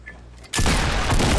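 Video game gunfire erupts after a quiet half second, a sudden loud sustained burst of shots and booms that fills the rest of the moment without pause.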